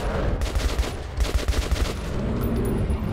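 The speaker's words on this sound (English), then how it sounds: "Well, stop shooting the floor then!" Video game gunfire in Metro 2033 Redux, a rapid series of loud shots aimed at the floor, dense and continuous through the first half before thinning into a rumbling wash.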